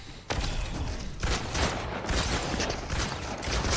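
Rapid gunfire in a Fortnite Zero Build fight, dense volleys of shots hammering in bursts after a brief quiet start, loud and close.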